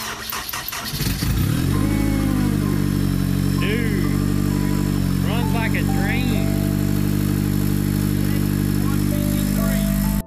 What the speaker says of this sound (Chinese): 现在来启动一下看看发动机的运行状态如何